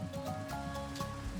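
Steady rain patters in a video game, a soft continuous hiss of falling drops with faint tonal game sounds underneath.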